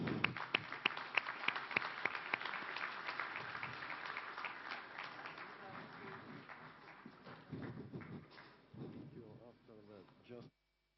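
Applause greets an Italian singer at an opening session, starting with several loud distinct claps and settling into a steady patter, with voices murmuring through it.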